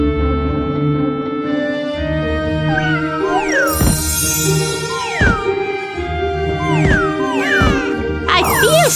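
Cartoon cats meow and yowl in a series of sliding, squealing cries over steady game music, with short thumps between them, in the Super Granny 4 video game.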